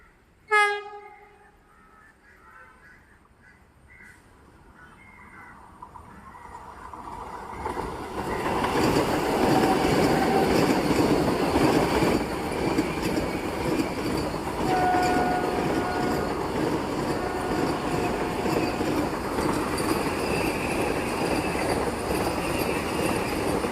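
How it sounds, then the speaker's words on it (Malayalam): The Thiruvananthapuram Central–Kasaragod Vande Bharat train rolls into a station, opening with a sharp horn blast, then a rising rumble of wheels and carriages with squeals and rhythmic clatter growing loud and near. "അടുത്തതായി ഇതാ വന്നുകൊണ്ട് നിൽക്കുന്നത് നമ്മുടെ കേരളത്തിൻ്റെ ആദ്യത്തെ വന്ദേ ഭാരതായ തിരുവനന്തപുരം സെൻട്രൽ കാസർഗോഡ് വന്ദേ ഭാരതാണ്"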